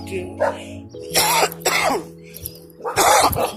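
A person coughs and clears their throat several times in short, harsh bursts, close and fairly loud, with brief pauses between.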